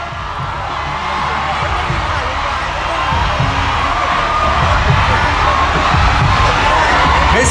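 Crowd at the Miss Grand Thailand 2025 pageant final cheering and shouting loudly in a big hall, a continuous dense roar that builds gradually, with an announcer's voice faintly mixed in.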